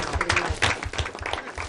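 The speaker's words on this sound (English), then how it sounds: "So let's give her a nice round of applause." People at a school committee meeting give a round of applause for Linda, a soft, scattered patter of clapping heard at moderate distance.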